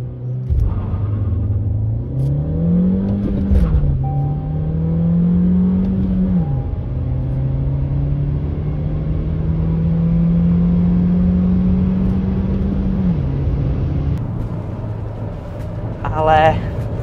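A Seat Leon FR 1.5 TSI 110 kW engine with six-speed manual accelerating, its pitch rising through gears with brief drops between shifts, then a long steady climb; a deep rumble fills the cabin throughout.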